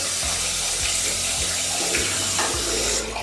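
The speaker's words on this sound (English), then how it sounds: "just use it like you would a cleanser and then just rinse it away" A tap runs steadily while water rinses face cleanser away at a sink, a close, continuous splashing rush that eases off at the very end, with no speech.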